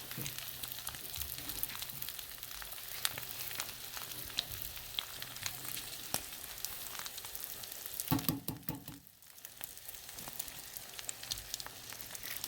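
Eggs sizzle and crackle as they hit chorizo frying in a pan, a steady low sizzle with scattered pops, briefly disturbed near the end by a stir or added ingredient.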